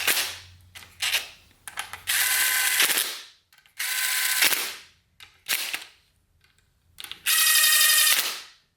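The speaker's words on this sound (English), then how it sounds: "Then I'll just go through and kind of finish tightening them up by hand." A hand ratchet tightens bolts on a 4L80E transmission being rebuilt, sounding as a string of sharp clicking bursts of varying length separated by short pauses and quiet handling noises, close and fairly loud.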